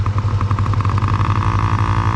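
A Yamaha PW50 small dirt bike engine revs off-road with a steady buzzing drone and pulsing throttle, loud and close, no talk over it.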